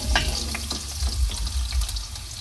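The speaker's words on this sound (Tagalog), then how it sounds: "Itong carrots, ating ipiprito. Yan, iprito natin ang ating carrots." Carrots frying in a pan for chicken afritada, a steady close sizzle with a few scraping stir sounds and soft low thumps throughout, no voices.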